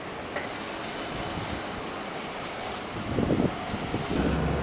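A Golden Gate Transit bus on Route 70 pulls in at a stop, its steady rumbling engine and road noise building and then easing, with high squealing brakes running through the whole stretch and no one talking.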